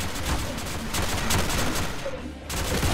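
Heavy, nonstop automatic gunfire at close range in a futuristic zombie shooter video game, loud and dense, with a brief dip in the barrage before it resumes.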